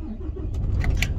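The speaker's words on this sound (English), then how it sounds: "what we'll do is start the engine up first" A truck's engine cranks and fires up close by, a low rumbling turnover with a few sharp clicks and knocks as it catches, heard alone without talk.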